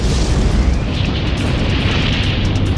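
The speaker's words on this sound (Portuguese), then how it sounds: "Haverá uma enorme explosão." A huge, sustained explosion rumble, loud and continuous with deep low roar and broad hiss throughout, no talking.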